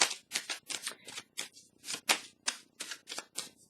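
A deck of tarot cards is shuffled and handled in quick, crisp bursts of papery riffling and flicking, close and fairly faint, with no voices heard.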